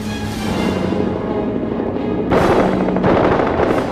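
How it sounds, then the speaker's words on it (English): A World War 1 fighter's synchronized machine gun fires through the propeller arc, a loud, dense rattle of rapid shots over an engine drone, continuous with a sharper burst toward the end. "This allows the gun to fire only in the interval when no blade is in front of the muzzle."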